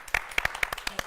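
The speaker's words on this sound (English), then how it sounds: "Applause." A studio audience on a talk show gives a short burst of scattered, fairly close handclaps, about a dozen sharp claps spread over roughly a second rather than a full roar.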